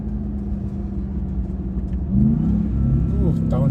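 Dodge RAM TRX pickup truck engine rumbling steadily at low pitch, then rising as it accelerates and shifts down, close and fairly loud, with a person talking over it.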